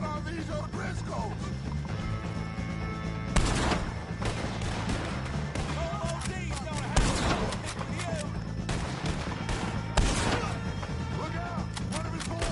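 Gunfire in Red Dead Redemption 2 aimed at O'Driscolls crackles as scattered shots and three heavy loud bangs over a busy, noisy battle, with voices shouting in the mix.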